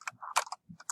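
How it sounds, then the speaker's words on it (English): Search terms are typed on a computer keyboard into a search bar: a quick, quiet run of close key clicks over about a second, with no talking. "Type your search terms into the search bar"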